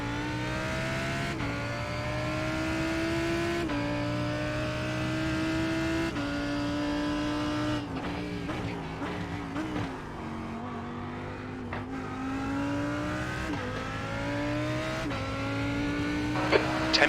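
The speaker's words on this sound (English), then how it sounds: "Watch your mirrors, there's a car approaching." In a VRS GT Sprint Series race at Hockenheimring, a GT3 race car's engine drones steadily and close, pitch rising and falling through shifts and corners as another car approaches from behind.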